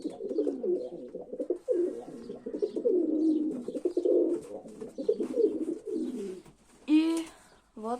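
Low, soft pigeon coos repeat in throaty rolling phrases nearby, followed by a brief higher call near the end.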